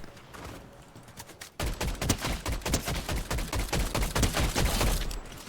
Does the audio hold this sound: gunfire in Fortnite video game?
yes